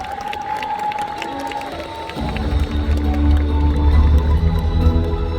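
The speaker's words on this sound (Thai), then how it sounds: "ขอเสียงปรบมือสักครั้งครับ" Crowd at a fan meeting applauding and cheering, a swelling wave of clapping and voices that starts modestly and grows louder and fuller partway through, continuing at strength to the end.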